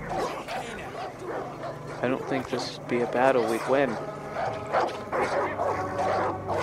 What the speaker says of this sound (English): Angry dogs.